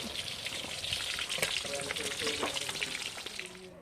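Food sizzles and crackles steadily in a pan over an open fire, a close and continuous frying hiss with light spatters.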